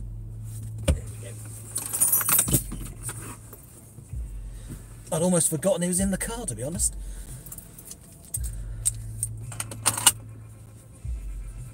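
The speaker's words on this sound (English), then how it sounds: "I've dropped my keys down the back of the seat and I can't get them" Keys jangling and scraping down the back of a car seat in a Hyundai Kona, brief metallic rattles between car interior noises, with someone talking over parts of it.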